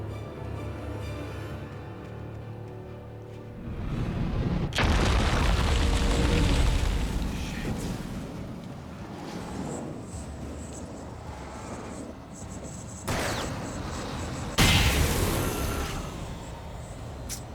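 Flashbang blasts in the Alan Wake video game: a loud roaring burst hits suddenly and lingers, then later sharp bangs return over a rumbling game background, with no talking.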